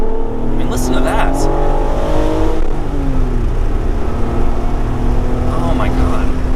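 A 2005 Acura NSX-T's engine revs up loudly and steadily while driving to a car meet, its rising pitch sweeping upward under continuous road noise, with a voice speaking over part of it.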